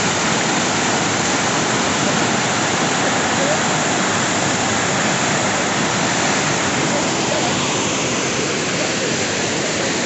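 A mountain river tumbles down almost like a waterfall beside an old rope bridge on a Himalayan trek, roaring as a loud, dense, unbroken rush of water with no voices.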